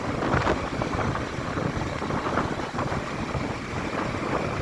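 Steady wind rushes past over a constant low rumble of travel along a hilly road, continuous and fairly loud with no voices.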